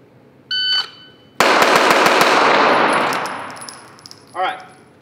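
A rapid string of pistol gunshots in a performance shooting drill, six rounds fired close and loud in quick succession, with a ringing tail and faint clicks afterward.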